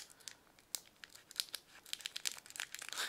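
Crisp crinkling and snipping of a foil Digimon trading card booster pack being cut open with scissors, a rapid string of sharp rustles and clicks, close and fairly quiet.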